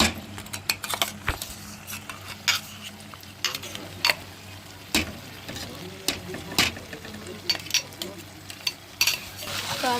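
Gongura paste being stirred into a sizzling chicken curry, with a utensil scraping and clinking against the pot in irregular strokes over a steady frying hiss, close and moderately loud.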